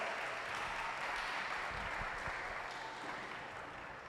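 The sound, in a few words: audience applause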